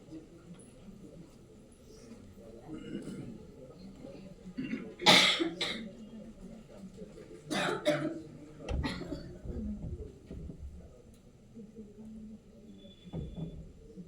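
Several sharp coughs and throat-clearing bursts break out at intervals over low background murmur, some close and fairly loud, others fainter.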